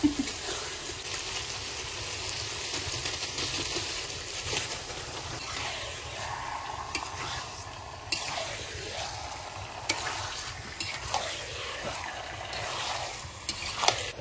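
Chicken pieces sautéing and being stirred in a pan, a continuous dense sizzle with frequent scraping and stirring movements, close and fairly steady, no voices.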